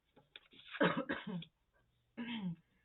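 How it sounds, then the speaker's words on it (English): A couple of quick, sharp coughs up close, followed by a short pause and one more cough, in an otherwise quiet room. "I just coughed"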